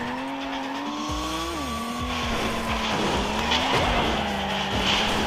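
Car skidding with tires squealing in the racing video game Reckless Getaway 2, a steady high screech over a loud, continuous engine drone that shifts pitch as the car swerves, filling the whole stretch without talk.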